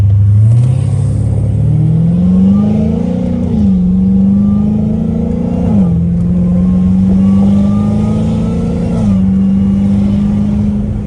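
A Dodge Hellcat Redeye pulls away hard from a green light, its engine roaring loud and close from inside the car, pitch climbing steadily with distinct drops at each paddle shift through the gears.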